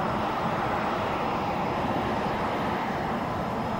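Steady, loud roar of an AV-8B Harrier jet engine in the X-Plane 11 flight simulator, a dense continuous rush filling the whole stretch without pause or talk.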